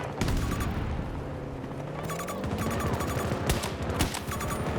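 Dense video game gunfire rattles in rapid automatic bursts against a constant background rumble of distant battle, with sharp cracks recurring every second or so.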